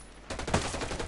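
Rifle shots in the tactical shooter Ghost Recon Breakpoint come in a rapid, echoing series of sharp reports that blur into a rolling burst of gunfire.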